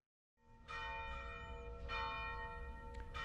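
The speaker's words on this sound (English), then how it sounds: "The bells have begun to ring." Church bells ring at Christ Church Cathedral for a Sunday service, starting after a moment of silence and sounding as loud overlapping peals with sustained ringing tones.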